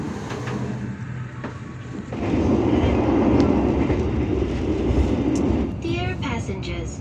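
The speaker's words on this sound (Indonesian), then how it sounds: "KA Bengawan kembali diberangkatkan dari stasiun Kutoarjo, Kabupaten Purworejo jam 22:29." KA Bengawan passenger train pulling out of Kutoarjo station at night, a steady low rumble that swells and holds, with voices talking throughout and a faint chime or announcement near the end.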